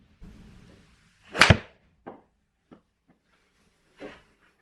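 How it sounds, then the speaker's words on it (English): A TaylorMade Qi 8 iron strikes a golf ball with one sharp, loud crack, followed by a few fainter short clicks and knocks in otherwise quiet surroundings. "So that is the 8 iron I'm hitting down there."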